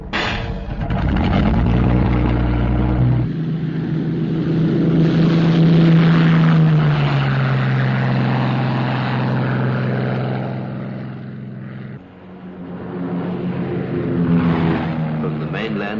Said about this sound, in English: Lincoln bombers of the Royal Australian Air Force take off to reinforce the security patrol above and beyond the Montebellos